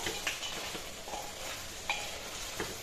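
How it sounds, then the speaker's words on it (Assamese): Local chicken curry being stirred in a pot after its liquid has cooked off: soft, quiet scraping with occasional light clinks of a utensil against the metal over a faint background sizzle, close and without speech. "অলপ কৰি এনেকৈ লৰাই দিলোঁ"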